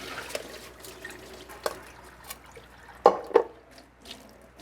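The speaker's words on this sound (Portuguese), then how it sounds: "Escorre essa água." Water drains off rinsed sushi rice, a quiet trickle broken by a few drips and two sharper splashes near the middle, close by with no talking.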